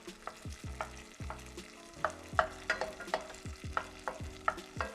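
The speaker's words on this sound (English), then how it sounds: "So now we're gonna let the butter melt." Butter melts in a hot pan over reduced heat, giving a soft crackling sizzle with repeated gentle scraping strokes in an even rhythm, close and quiet with no talking.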